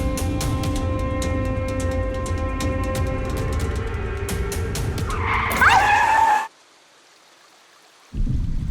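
A car skids to a sudden stop with a rising tire squeal over road noise, then everything cuts to silence for a moment before the noise returns.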